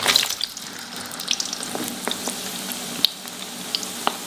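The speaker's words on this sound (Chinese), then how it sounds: "我们就炸一炸" Chaoshan shrimp balls made with turtle meat, pork fat and shrimp sizzle as they deep-fry in hot oil, a steady soft bubbling hiss with scattered crackles and pops, no talk.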